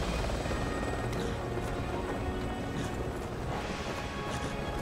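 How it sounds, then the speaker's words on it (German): A helicopter in the Resident Evil 6 video game gives off a steady, loud rotor and engine roar that fills the whole stretch without a break, mixed with dense game noise. "werden noch von einem Helikopter geschossen."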